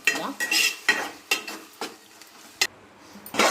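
Cucumber and tomato curry with dried fish cooking in a pan, heard as repeated stirring strokes over a frying sizzle, about seven bursts spaced irregularly, close-up and moderately loud with no talking.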